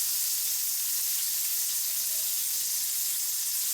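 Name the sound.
food sizzling over flame of DIY wood gas camping stove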